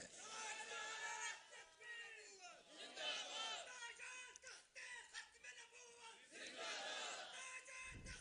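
A large crowd at a Khatm-e-Nabuwat conference chanting slogans in unison, swelling rhythmic roars of many voices that rise and fall, heard faint and distant with loud surges.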